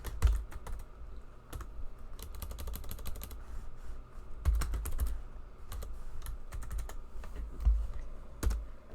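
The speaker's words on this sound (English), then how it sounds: "I'm typing to you all." Typing on a computer keyboard late at night, irregular bursts of close, crisp key clicks with short pauses between runs, no talking.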